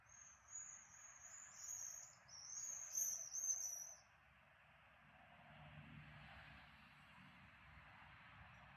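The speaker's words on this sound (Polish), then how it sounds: "Ptaki śpiewają." Faint birds chirp and whistle in the distance over quiet outdoor ambience, and the calls fade out midway.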